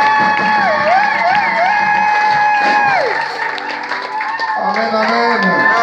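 A wedding congregation claps and cheers loudly and continuously in a church, with voices, shouts and whoops mixed through the applause.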